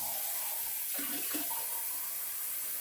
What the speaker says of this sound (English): I'll just use some water at the tap.